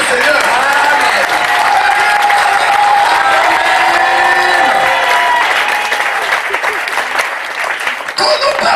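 A church congregation applauding, steady and loud dense clapping with voices and cheers mixed through it, holding throughout and easing slightly near the end.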